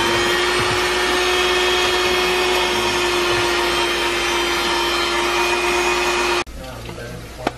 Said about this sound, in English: we've been whisking our egg whites for a while